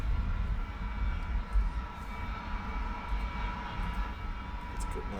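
Aircraft engine drone from a plane coming in during an A-10 session in the War Thunder flight game, a steady low rumble held under faint background noise.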